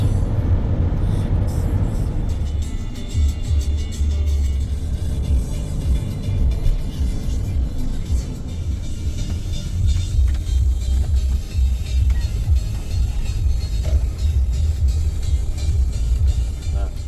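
A Sprinter 4x4 van cruising on the autobahn, a steady loud low road and engine rumble with wind noise that holds constant throughout, no talking over it.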